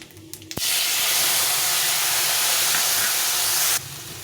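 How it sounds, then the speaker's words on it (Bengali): A loud, sudden burst of sizzling as wet spice paste hits a hot pan of cumin-tempered oil, a steady hiss lasting about three seconds before dropping away. "এই মশলাটা গুলে রেখেছিলাম এটা দিয়ে দেবো"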